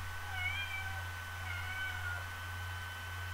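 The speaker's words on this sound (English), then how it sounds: "You got a cat too?" A cat gives two soft, wavering meows over a steady low electrical hum, with no talking.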